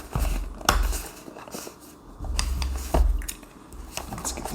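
A few sharp scissor snips through Amazon packaging and crinkling handling noises, close by, with short pauses between cuts and some plastic rustle.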